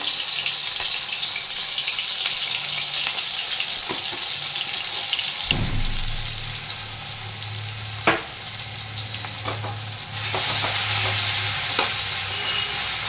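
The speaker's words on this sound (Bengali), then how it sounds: "দেখো আলুটা ভাজা হয়ে গেছে, এখন টমেটো দিচ্ছে।" Potatoes frying in a pan as chopped tomatoes are tipped in, a continuous hiss and sizzle that deepens into a louder, fuller frying sound, with occasional scrapes and clinks from stirring.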